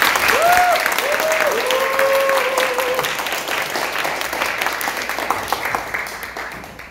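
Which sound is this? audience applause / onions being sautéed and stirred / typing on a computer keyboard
audience applause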